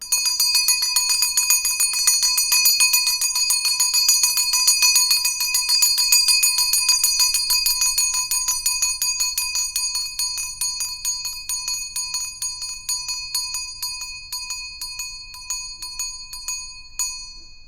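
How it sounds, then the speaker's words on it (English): A small metal bell is struck in rapid repeated rings, bright sustained tones overlapping into a shimmering wash that slowly thins and decays, loud and close with no talking. "I will take the bell and I will clear the energy"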